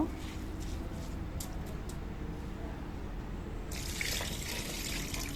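Water is poured into a pot of hand-mixed rice and lentils for khichuri, a soft continuous trickling pour that grows brighter and fuller near the end.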